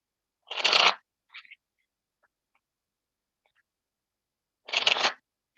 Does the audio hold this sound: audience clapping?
no